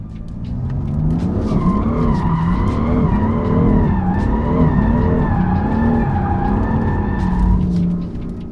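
A BMW M4 engine roars under hard acceleration with traction control off while the tires squeal and skid continuously for several seconds, loud and close, then cuts off.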